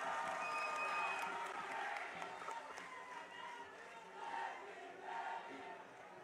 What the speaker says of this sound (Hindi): एक बार जोरदार तालियां बजा करके अपने नेताओं का स्वागत करें